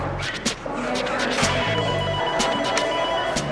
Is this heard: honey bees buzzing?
no